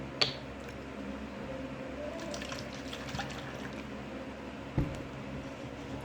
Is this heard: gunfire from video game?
no